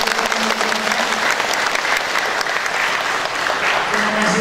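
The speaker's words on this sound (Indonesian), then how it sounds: "Saya minta semangat, tepuk tangan dulu buat PHBI" An audience at an Islamic religious lecture for a PHBI commemoration in Sukamara claps steadily together, a dense, loud, sustained round of applause lasting the whole stretch with no speech over it.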